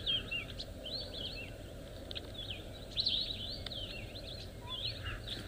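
A wild bird calls on an African safari at sunrise, with repeated warbling, swooping notes rising and falling at moderate distance over a soft, low outdoor background hum.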